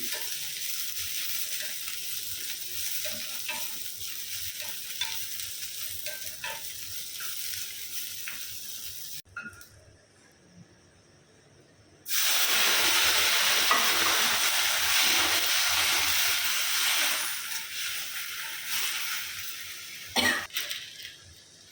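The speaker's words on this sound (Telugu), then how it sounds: "ఇప్పుడు పచ్చిమిర్చి వేయించుకుందాం" Green chillies fry in oil in a pan for tamarind chutney, giving a dense, steady sizzle. It briefly falls near silent, then surges back louder with occasional stirring clatter, close up and without speech.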